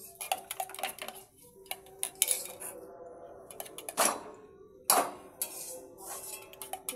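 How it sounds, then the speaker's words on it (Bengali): Eggs being beaten in a bowl for an egg roll, with irregular clinks of a utensil against the bowl, some sharp taps and pauses between them, near and fairly quiet. "ডিমটাকে ভালো করে ফেটিয়ে দিলাম, ভালো করে গুলে দিলাম"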